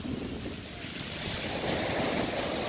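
Waves wash steadily onto the Black Sea shore at Cide on a cool evening, a continuous broadband surf roar with wind noise across the microphone and no voices.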